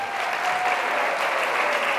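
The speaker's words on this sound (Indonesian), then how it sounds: "Tepuk tangan untuk kita semua." An audience claps together in a steady, dense burst of applause that holds throughout, close and fairly loud.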